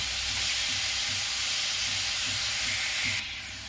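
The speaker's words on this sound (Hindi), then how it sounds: "अब गैस को मैं हाई फ्लेम पर कर रही हूँ। ये 1-2 मिनट भून लूंगी" Vegetable cutlet filling with carrot frying on a high gas flame, a steady loud hiss and sizzle filling the whole stretch, close by, easing slightly near the end, no talking.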